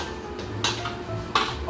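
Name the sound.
tossing lemon chicken and sauce in a wok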